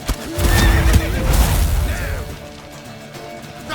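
A horse in The Witcher 3 lets out a loud, close whinny amid clattering hooves and crashing action noise, the neigh rising and fading over a few seconds with no talk.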